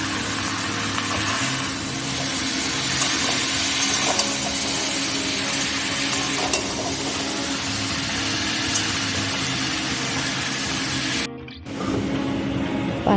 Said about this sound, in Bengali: কেটে রাখা লাউ ডগা পাতা শাক। সরিয়ে দিয়ে ওপর থেকে ভালো করে এটাকে মিক্স করে 2 মিনিট ভেজে নেব।